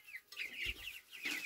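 Hens feeding on barley cluck in quick, short bursts, close by and fairly faint, with a few sharper calls standing out.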